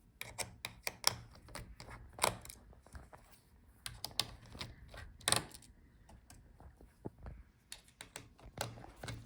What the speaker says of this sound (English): So unscrew these screws here.